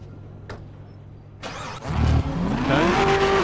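A car's engine starting up, then revving loudly as the car pulls in closer, with a rising engine note, nearby and strong, after a short quiet stretch.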